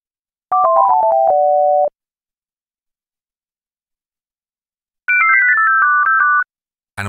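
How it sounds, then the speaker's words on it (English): Pure sine-wave synthesizer tone with softened attack and release, playing two short descending melodic phrases of stepped pitches, loud and clean, separated by silence. "We start from a pure Sine tone."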